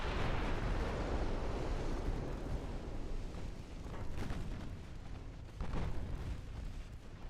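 Battleship guns fire in the naval game Ultimate Admiral Dreadnoughts, 14-inch and 12-inch main batteries among them, making a rumbling barrage of deep booms with a few sharper blasts standing out, heavy and continuous, with no speech.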